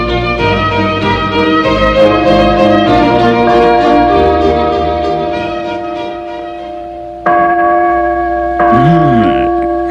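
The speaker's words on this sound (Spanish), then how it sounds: "Las campanas están tocando a muerto." Church bells toll for the dead as a radio drama sound effect, with loud sustained ringing strikes whose long resonant overtones hang and decay, followed by a fresh strike near the end.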